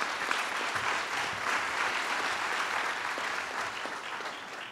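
Audience applauding after a pitch at a community gathering, a full, continuous burst of many hands clapping at steady loudness from start to finish.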